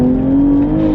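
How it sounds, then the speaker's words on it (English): Engine of a heavily tuned BMW M235i producing about 680 wheel horsepower, running on a dyno with a steady, loud low drone and a smooth hum, heard alone without voices. "also the burble noises, which are always fun"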